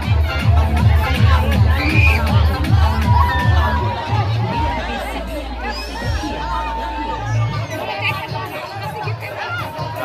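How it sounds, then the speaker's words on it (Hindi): A large, noisy crowd chatters and shouts at an outdoor Krishna Janmashtami pot-breaking contest in Babubarhi, Madhubani. The dense hubbub stays steady and close, with occasional cheers rising above it. "काफी भीड़ है वो"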